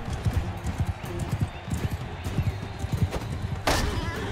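Horse galloping in the video game Mount & Blade 2 with a Game of Thrones mod, rapid rhythmic hoofbeats running continuously and a brief whinny-like burst near the end.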